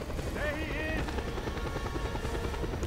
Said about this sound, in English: Grapple onto the chopper to escape!